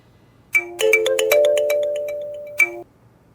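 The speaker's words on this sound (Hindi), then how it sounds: "अस्मित का नंबर ट्राई करूं?" A phone ringtone sounds while a number is dialed, a short bright chiming melody that swells, holds, and ends with a final ding, played alone in a quiet room.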